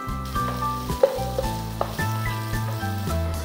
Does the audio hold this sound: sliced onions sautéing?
yes